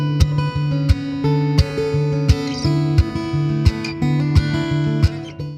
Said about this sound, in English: You can use it with acoustic guitar.